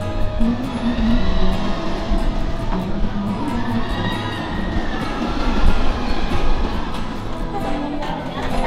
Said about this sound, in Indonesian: ini dia mining coaster gengs